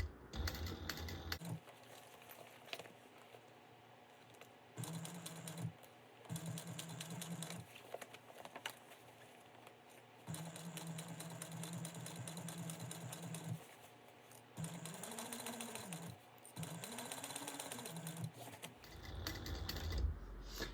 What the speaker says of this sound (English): I'm just going to cruise around top stitching at a 1/4 inch seam allowance